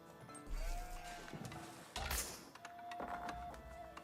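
Sheep bleating in the video game Age of Empires 4, a few drawn-out bleats standing out over soft game ambience and clicks.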